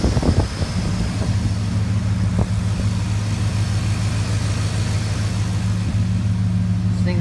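A 2004 Chevrolet Silverado 1500 pickup with a 5.3-liter LM7 V8 idles steadily with a low, even drone, some wind buffeting and a few knocks near the start.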